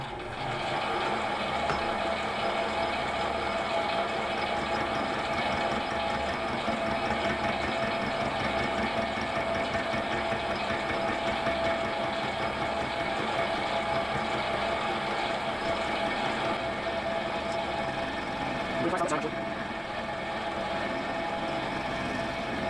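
A metal lathe takes an interrupted cut on a small model engine cylinder block held in a chuck, giving a steady, continuous mechanical drone and whine with no pause.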